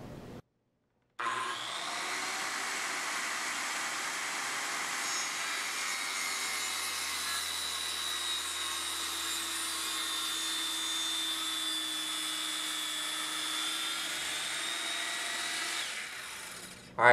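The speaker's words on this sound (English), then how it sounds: "pull the trigger and slowly plunge, making your cut." A circular saw on an EZ Smart Saw track base spins up and plunge-cuts, giving a loud steady whining motor roar with grinding blade noise that holds for about fifteen seconds, then winds down, with no talking.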